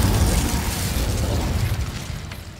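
An Incendio fire spell bursts in Hogwarts Legacy, a loud, close, rumbling whoosh of flame and impact that hits at once and slowly fades over about two seconds.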